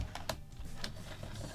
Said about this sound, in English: the noises you just heard were, you know, me getting my keyboard